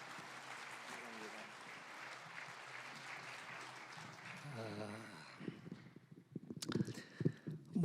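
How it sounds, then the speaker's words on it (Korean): An audience claps in welcome as a pastor comes forward to speak at a church denomination spirituality conference. The applause is steady and fairly faint for about five seconds, then thins into scattered claps and bumps. "환영의 박수 부탁드립니다."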